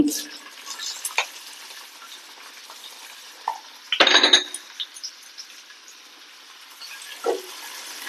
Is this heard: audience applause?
no